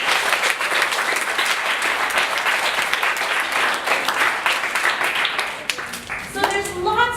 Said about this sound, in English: So I would really like you all to give yourselves a big round of applause.